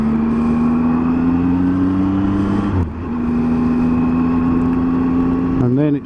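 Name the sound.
oncoming vehicle passing a Triumph Tiger 800 XRT motorcycle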